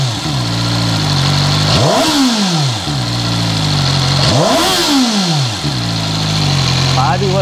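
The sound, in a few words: CFMOTO 500SR motorcycle dual exhaust engine sound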